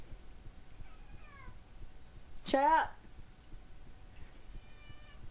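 A cat meows from behind a closed door, one loud drawn-out call standing out mid-clip with fainter short meows before and after, while a person speaks nearby.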